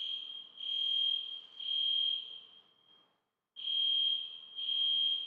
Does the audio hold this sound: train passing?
no